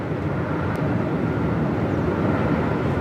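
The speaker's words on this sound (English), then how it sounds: "Singapore coming in with the 359er." Singapore Airlines Airbus A350-900 arriving at Melbourne Airport in strong wind, a continuous broad jet roar holding steady and fairly loud, with no voices over it.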